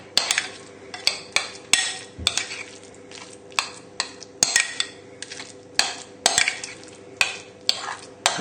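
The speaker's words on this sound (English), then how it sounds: "just using your spoon, we just need to mix it together now" A spoon stirs seasoned mushroom Wellington filling in a bowl, making repeated close scraping and clinking strokes at an uneven rhythm, with soft squelchy mixing between them and no voices.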